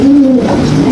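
Pigeons coo in a loft of racing pigeons near Bandar Lampung, one continuous low, throaty coo sounding close and loud with nothing else beside it.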